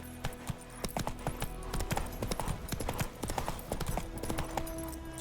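Horse hooves galloping in The Witcher 3 video game, a quick steady clip-clop rhythm running throughout at moderate level, with no talk.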